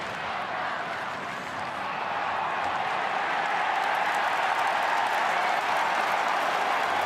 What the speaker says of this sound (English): Big crowd starting to get behind the Saints.